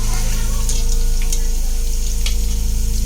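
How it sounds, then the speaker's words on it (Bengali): Potatoes frying in hot oil make a loud, steady, close sizzle with a low bubbling hum and a few faint crackles, with no voices. "এখন আলুগুলো ভেজে নেব"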